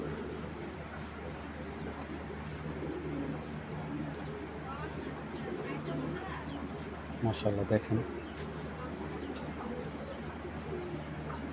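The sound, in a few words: female pigeon cooing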